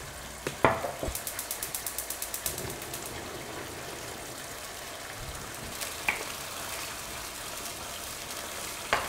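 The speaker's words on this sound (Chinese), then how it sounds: "用油把这个番茄炒一炒，这样能让它更香。" Canned tomatoes stir-frying in oil give a soft steady sizzle, with a quick run of light clattering taps from stirring early on and a few scattered utensil knocks later, no talk.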